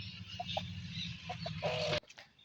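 Chickens cluck with a few short soft calls amid a low rumble of background noise; the sound cuts off abruptly near the end.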